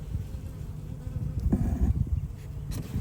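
A low, steady buzzing of honey bees close by during a hive inspection, a dense humming drone with slight swells, no talk over it.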